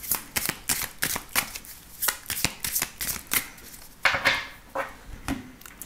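Oracle cards being shuffled by hand, a rapid run of crisp riffling slaps and papery flutters, close and fairly loud, with a longer swishing pass near the end and no voices.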